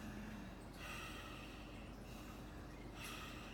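Exaggerated chest breathing shown during a beginner yoga lesson: a few sharp, loud inhales, nearly snorts, with gasping rushes of air close to the mic and no speech.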